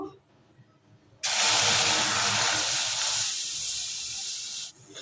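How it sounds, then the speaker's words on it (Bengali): Amul packet milk boils hard in a pan as it thickens into malai, giving a steady loud hiss and bubbling roar that starts abruptly and cuts off after a few seconds. "দুধটা এভাবে ফুটিয়ে ফুটিয়ে ঘন করে নেব"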